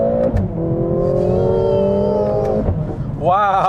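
A Mercedes-AMG GLA45 engine revs loud and close, pitch climbing smoothly through a gear, dropping at a shift, then a sharp rev-matching blip near the end, with a voice talking over it.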